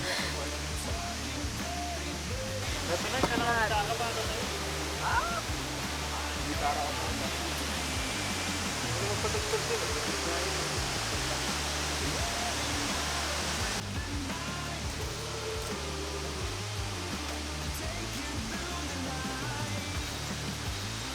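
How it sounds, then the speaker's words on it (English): A waterfall at the end of a hike in Tuba, Benguet roars as a broad, steady rush of falling water. It stays loud and even throughout, with a voice speaking faintly beneath it. "The end of our hike led us to a beautiful waterfall."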